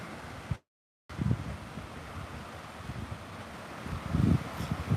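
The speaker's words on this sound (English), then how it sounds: "The sound of the waves just so, and it actually is very calm today." Calm lake water laps gently at the Mackinac Bridge, a soft continuous wash with small surges under steady wind noise, with a brief dropout near the start.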